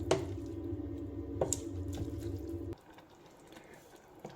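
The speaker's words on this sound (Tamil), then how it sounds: "நம்ம வந்து இப்போ கொஞ்சமாக தேவையான அளவுக்கு தண்ணி ஊற்றிக்கலாம்" Water pours steadily into a pan of cauliflower gravy for a few seconds with a few splashy clinks, then stops, leaving a quieter, faint hiss.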